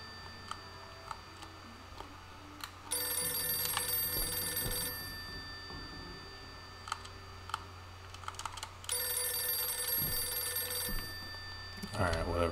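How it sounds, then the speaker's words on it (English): An old telephone rings in the horror video game Visage, two long, loud trilling rings separated by a pause, with clicks and quiet ambience in the gaps. "Let's pick up this phone."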